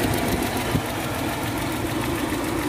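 A 1982 Suzuki Jimny 4x4 idles with an aftermarket Herder 41 exhaust, a steady, close, rumbling engine note with a slight knocking pulse throughout, no voices.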